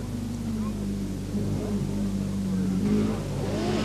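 A Vauxhall rally car on the 1982 Circuit of Ireland Rally, its engine droning steadily at a moderate distance and rising slightly in pitch, with a commentator talking over it.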